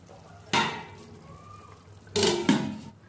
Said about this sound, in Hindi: अब हमको ढक देना है।